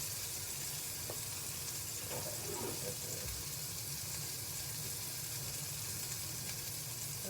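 A turkey burger sizzles in butter in a hot pan, a steady close-up hiss of frying with a few faint clinks from kitchen handling.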